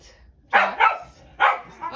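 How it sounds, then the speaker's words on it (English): Several dogs bark and yip indoors in short bursts, three or four sharp barks in quick succession, close and fairly loud, with a quiet pause between groups. "my dogs are so chatty today"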